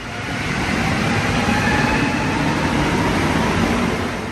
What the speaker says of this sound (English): Now I'm about to get on the metro